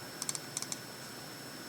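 A few quick bursts of typing on a computer keyboard, two short clusters of close, crisp key clicks separated by a brief pause, then quiet.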